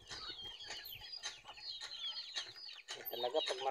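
Several chickens cluck and chatter close by, with scattered sharp calls and some background murmur.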